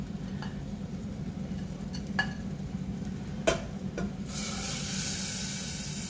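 Yogurt masala gravy stirred into gatte sabzi in a pan, a steady close scraping and stirring with a low sizzle underneath, a few sharp utensil clicks, then a brighter hiss rising near the end.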